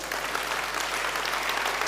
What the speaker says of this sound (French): On peut applaudir Manon, s'il vous plaît.